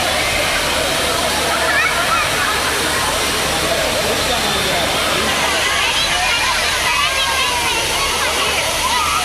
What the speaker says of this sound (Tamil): தண்ணீர் மிதமான அளவில் கொட்டுவதால் குடும்பத்துடன் அருவியில் குடித்து மகிழ்ந்தனர்.